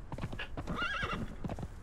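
A horse in the game Conan Exiles clip-clops along in a quick, close, steady hoof rhythm, with a brief whinny in the middle.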